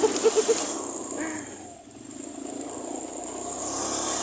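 A motorcycle engine strains uphill on a road trip, a steady droning whir close by that dips briefly and then builds again, with no talk over it.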